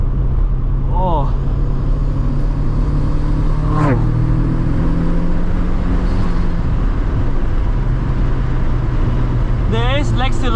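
A carb-legal turbocharged NA Mazda Miata (MX-5) on about 7 psi of boost pulls hard: a loud, steady engine drone from inside the car rises in pitch through several revving sweeps and gear changes.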